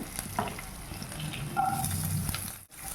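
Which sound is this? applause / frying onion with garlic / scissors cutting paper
frying onion with garlic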